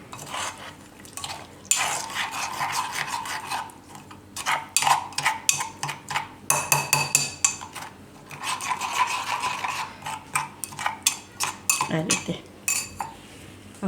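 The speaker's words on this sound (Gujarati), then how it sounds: "અને મિક્સ કરી લઈએ" A spoon scrapes and clinks against a pan as a tindora (ivy gourd) and potato curry with green chilies and a little added water is stirred. The strokes are repeated and irregular, close and fairly loud, with faint talk underneath.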